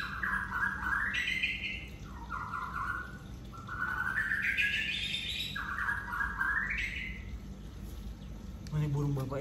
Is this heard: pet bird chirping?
yes